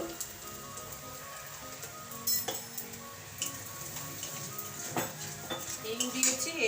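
Asafoetida dropped into hot oil as a tempering along with chilli and nigella seeds, crackling and sizzling in a patchy, rain-like spatter with a few louder pops and stirring scrapes.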